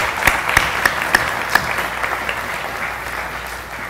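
Graduation ceremony audience applauding the staff, a dense wash of many hands clapping with a few sharper claps standing out early, fairly loud and steady before slowly thinning toward the end.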